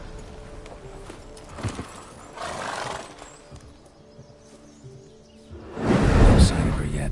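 Hooves of Roach, a horse in The Witcher, clop along amid game ambience, with a stronger burst of movement near the end; a voice speaks briefly over it.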